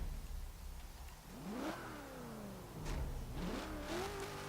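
An Australian car in the Forza Horizon 3 racing game revving and accelerating, its engine pitch climbing through two rising sweeps with a gear change between, fairly faint and with no talk over it.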